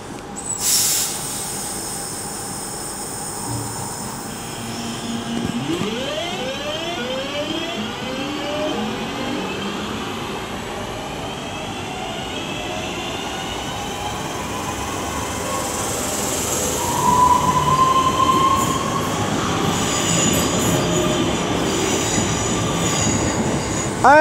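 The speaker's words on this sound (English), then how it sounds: "323-206 is now just about ready to lead away the 1313 West Midlands Railway service" A Class 323 electric passenger train pulls slowly away from Aston station, Birmingham, with rising electric motor whine, wheel squeal and clattering over rail joints, steady and fairly close.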